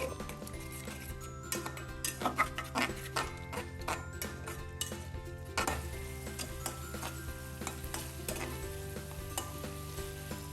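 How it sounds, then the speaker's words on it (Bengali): Beef masala spices with chili fried in a pan for a beef and radish dish, with a steady close sizzle under repeated scraping and tapping stirs of a utensil against the pan. "এটা দিয়ে এখন আমি ভালো মতো করে নাড়াচাড়া দিব ভিউয়ার্স"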